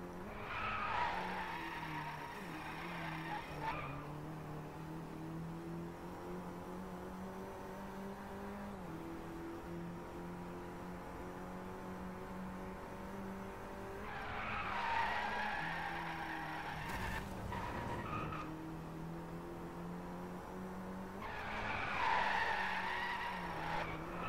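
Driveclub racing game car engine droning steadily at high revs, with bursts of loud tire skidding and squeal as it slides through corners, three strong skid episodes near the start, middle and end.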